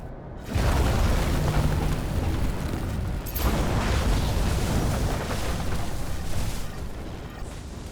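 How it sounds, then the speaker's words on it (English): A deep, sustained explosion rumble from the noir detective game Nobody Wants to Die, bursting in after a brief silence and rolling on loudly, with a second blast swelling around the middle, then fire-like roar continuing. "That's what caused the explosion."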